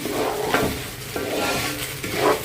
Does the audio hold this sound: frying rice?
yes